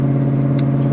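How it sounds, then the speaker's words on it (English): A 1999 Ford SVT Cobra exhaust with a Flowmaster muffler hums in a low, steady drone at cruising speed, close and fairly loud, with a brief clack midway. "You can hear the exhaust, but it doesn't have a crazy drone to it"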